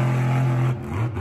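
A monster truck engine running hard at a Monster Jam event in Salt Lake City, with a loud, steady low drone that drops briefly and then surges back.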